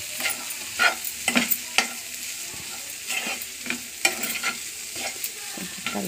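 Stuffed brinjal curry with turmeric, salt and chilli powder being stirred in a pan: repeated scraping spoon strokes at an uneven rhythm over a constant low sizzle, close and clear, with no talking.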